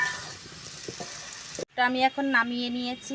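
Potatoes frying in oil in a home kitchen, a broad steady sizzle filling the first half before cutting off, followed by someone speaking over quieter background.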